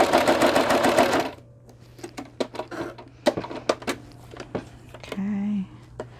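A sewing machine stitches a fabric tag in a fast, close burst of rapid stitching that lasts about a second. Scattered clicks and handling knocks follow, with a brief whine near the end.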